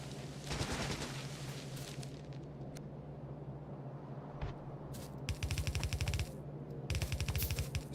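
Rapid automatic gunfire in a video game sprays at trees in several quick bursts, with a loose volley early on and denser rattling bursts later. The shots sound fairly quiet over a low steady hum.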